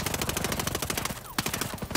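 Rapid automatic gunfire from the video game Ghost Recon Breakpoint, sustained bursts with a steady rattling rhythm, a brief pause, then a loud single shot and more firing.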